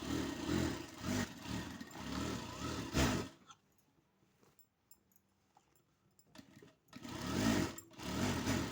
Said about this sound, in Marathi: दाबटीप मारताना नेहमी पट्टीकडल्या साईडला दाबटीप मारून घ्यायची